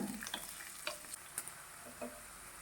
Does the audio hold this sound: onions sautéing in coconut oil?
yes